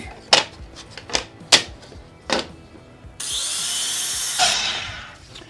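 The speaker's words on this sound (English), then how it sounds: "we'll get all 4 of these cut at the miter box" Wooden rails for a simple woodworking project being cut at a miter box: several sharp knocks and taps, then a steady, loud burst of sawing for about a second and a half that trails off.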